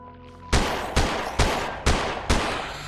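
Five evenly spaced gunshots from a pixel art video game ring out in quick succession, each a sharp, loud blast with a short decaying tail, over a faint musical background and no talk.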